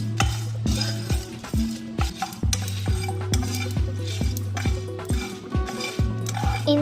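Spices rattle and scrape in a dry pan as a utensil stirs them in steady strokes, with a faint crackle and no talking.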